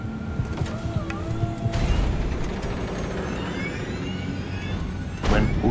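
Aircraft landing gear retracting just after takeoff inside a cabin, a mechanical whirring and rumbling with a thud partway through and another knock near the end, over steady engine and airflow noise.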